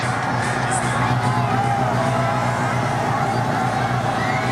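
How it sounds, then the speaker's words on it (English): Spectators at the Race of Champions motor race event roar and cheer continuously, a loud, dense crowd noise with whoops rising over a steady low rumble. "you can hear the expectation from the crowd"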